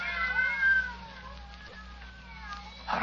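Several cats meow and wail in a radio drama scene, with harmonic cries rising and falling near and clear throughout, a sharp burst of noise at the end and a low steady hum underneath.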